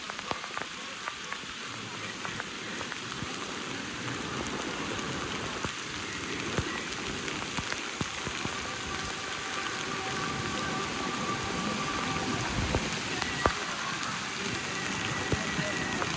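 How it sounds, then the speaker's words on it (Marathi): Heavy rain pours down steadily on the walking route to Vaishno Devi, a dense continuous patter close by, with faint voices now and then beneath it. "कसला भयंकर पाऊस चालू आहे"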